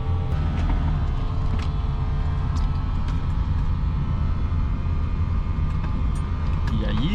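Interior drone of an old Zaporozhets small car driving along on a delivery run, a steady low rumbling engine and road noise throughout, close and continuous, with faint voices briefly beneath it.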